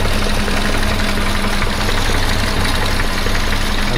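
The engine of a 1976 BMW 2002 idles close by, a steady dense rumble with a faint knocking pulse running evenly through the full four seconds.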